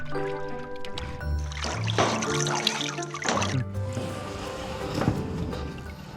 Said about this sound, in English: After rinsing through water, they are ready to be processed.